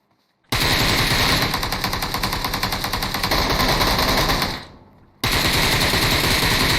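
Sustained automatic gunfire blazes loudly and nonstop in a one-man-squad shooter match fought in open ground, breaking off briefly near the end before another burst resumes at full volume.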